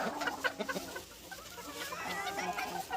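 Hens clucking and squawking in an agitated back-and-forth, close and fairly loud, with the calls overlapping throughout.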